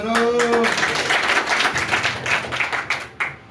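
Audience clapping at a 'Har Ghar Tiranga' workshop held at Nowgam Railway Station, a loud burst of many hands close by, thinning into scattered claps toward the end, with a brief tone and faint voice near the start.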